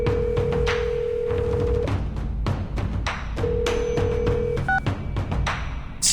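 A telephone is dialed in the game Reverse: 1999: a steady tone sounds twice, each stretch lasting over a second, over a busy rhythmic backing of clicks and thumps, with a couple of short beeps near the end.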